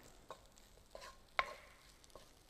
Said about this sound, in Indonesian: ini kita masak nasi gorengnya sampai kering.